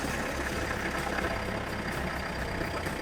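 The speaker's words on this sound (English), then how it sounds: "I've turned the engine on and the maximum we're getting is 40 watts for input." A van's engine runs in a steady, low idle drone with no changes, and no one speaks over it.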